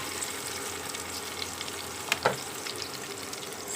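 Beans, green chillies and garlic frying in a pan for vegetable pulao, a soft steady sizzle with a brief stir clatter midway, close and fairly quiet.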